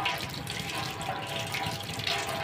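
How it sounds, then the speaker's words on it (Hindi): Kitchen tap water runs steadily while tomatoes are washed under it, a continuous close splashing stream with no talking. "टमाटर को हम धोएंगे पहले, हम नल खोल देते हैं"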